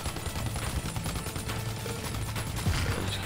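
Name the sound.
shooting in the video game Super Time Force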